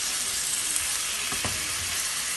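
Boneless chicken stir-fries in a pan with a loud, continuous hiss of sizzling oil. One brief scrape of a spatula cuts through midway, close up, with no voices.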